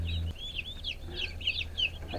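Farm turkeys and other poultry clucking and gobbling, a busy run of repeated calls from several birds over steady outdoor background noise.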